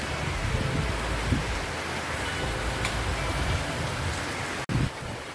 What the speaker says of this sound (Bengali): ও বাবা, ভালোই বৃষ্টি হচ্ছে, বৃষ্টি শুরু হয়ে গেলো